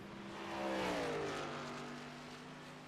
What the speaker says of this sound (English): as Harris and Marco Lavery duke it out. Marco in the Ford Mustang. 40 in the Toyota Supra